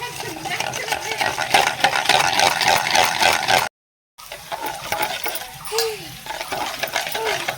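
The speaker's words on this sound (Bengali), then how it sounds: "এখানে টক দই, এখানে দেব 2 চামচ বেসন, এবার ভালোভাবে ফেটিয়ে নেব" Sour yogurt and two spoons of gram flour are whisked briskly in a bowl with a fast, rhythmic clatter that cuts out briefly and then resumes more unevenly.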